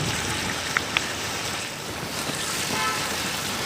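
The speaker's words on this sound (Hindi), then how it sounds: "मीट को हम जब तक भूनेंगे जब तक इसका कलर चेंज नहीं हो जाता।" Meat frying in hot oil in a karahi for Peshawari charsi karahi, a dense, steady sizzle with a few small pops, heard alone.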